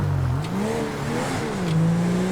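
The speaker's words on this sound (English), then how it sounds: "Sounds like the engine's giving out or something." A police car engine in GTA V revs and wavers in pitch, rising and dipping unevenly like a failing motor, loud and close throughout, with no talking.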